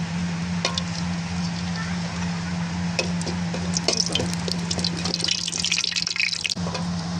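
Traditional Barisal syringe pitha cakes sizzle and crackle in hot frying oil, a steady bubbling hiss with scattered sharper pops growing busier toward the end, alongside a low background hum.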